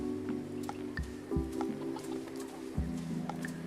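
Chickens in the game STALKER, repeated clucks and short squawks close by over a steady low game ambience, with no talking.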